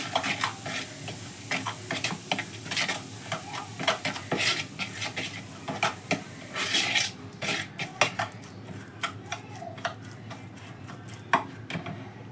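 A spice mixture is worked together with oil by hand in a bowl, making a busy run of wet scraping, clinks and taps of a spoon against the dish, close by with no voices.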